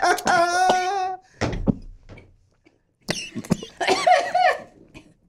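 Someone coughs after smoking cannabis, giving a short rough burst between stretches of voiced, laugh-like vocal sounds, close and fairly loud.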